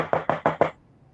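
Four quick, evenly spaced knocks on a door land close and loud, then fade into quiet.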